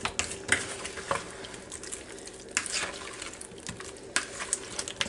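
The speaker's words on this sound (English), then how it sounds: "Let's just stir this up together a little bit." Stirring fruit salad ingredients of pineapple, mandarin oranges and bananas in a bowl, a close, quiet run of wet squelches and soft scrapes with intermittent spoon clinks.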